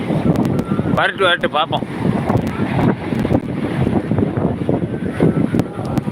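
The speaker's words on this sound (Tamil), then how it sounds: "இன்றைய தினம் கடற்கரை பகுதியில் நிற்கிறேன்" Wind buffets the microphone at a seashore in Colachel, with waves and surf rumbling steadily underneath while someone talks over the blustery noise.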